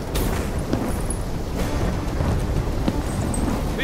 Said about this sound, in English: Incoming superstorm too strong. Storm's only gonna get worse.